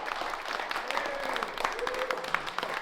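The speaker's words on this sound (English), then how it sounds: "Please put your hands together for our panelists." An audience at a live panel discussion on AI, recruitment and education claps for the panelists in sustained applause, with some voices mixed in.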